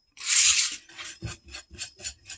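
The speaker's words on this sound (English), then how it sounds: "I just really like using my super adorable giraffe whisk." A hand whisk works through thick pumpkin loaf batter, starting with one long loud scraping stroke and then settling into a steady run of short rhythmic rasping strokes, close and alone.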